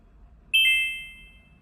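A single bright electronic chime rings out over a quiet room hum, its tone lingering and fading over about a second.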